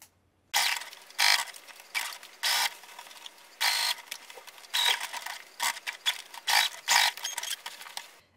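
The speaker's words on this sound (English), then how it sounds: "you're going to top stitch the seam allowance in place" A sewing machine topstitching the seam allowance on a pair of shorts, in repeated bursts of fast mechanical whirring separated by short pauses, close and clear with no voices.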